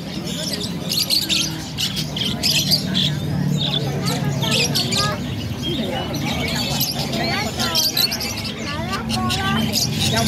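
Many caged birds at a Hong Kong bird market chirp, squawk and tweet densely and close, a busy chorus mixed with people talking nearby.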